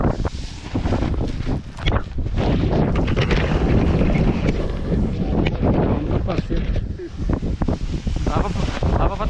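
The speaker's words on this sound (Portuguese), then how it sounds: "E o vento ainda tá por conta" A strong wind roars and buffets the microphone at a speed-flying launch site, loud and unbroken throughout, with a voice faintly audible under the gusts.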